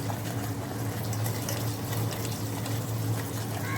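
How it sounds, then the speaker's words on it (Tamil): Sugar and a little water simmer together in a pan for a banana cake, a continuous soft bubbling and hiss with a low steady hum underneath, close by and even in level throughout. "ஒரு பேனில் அரை கப் சர்க்கரை, கொஞ்சமாக தண்ணி சேர்த்து நல்லா கலக்கணும்."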